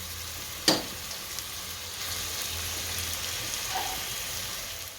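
Ingredients for Gujarati spiced rice fry in oil with a soft, even sizzle close by, broken early by a single sharp utensil clink and faint stirring.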